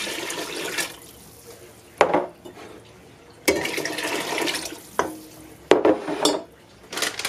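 Home-canned broth goes into a cooking pot in a kitchen, heard as a few sharp clanks of jar and pot with watery splashing and stirring bursts separated by quieter pauses, close up and with no talk.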